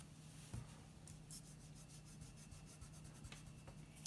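A pencil draws on paper in soft rubbing scratches, faint and close, with light strokes and a couple of sharper taps in a quiet room.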